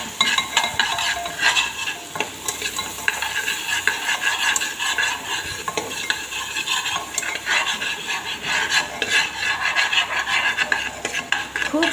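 A spice paste is stirred and sautéed in a hot pan, giving a steady, close sizzle with continuous scraping of a spatula throughout and no talking.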